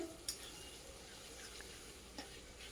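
Chopped tomatoes fry in mustard oil for a masala chicken curry, a quiet steady sizzle with a couple of faint clinks of a utensil stirring, no voices.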